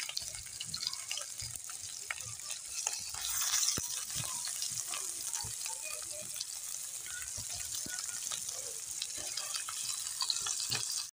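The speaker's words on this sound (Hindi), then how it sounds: "इसी तरह से हम सारे कबाब तल लेंगे।" Beef chapli kebabs frying in hot fat alongside green chillies, a steady dense sizzle and crackle that holds the whole way through, with faint stirring clinks and a brief louder spitting burst near the middle.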